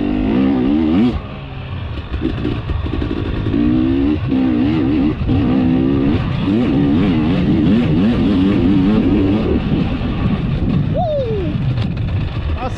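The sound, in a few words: motorcycle being ridden standing up on a warm-up lap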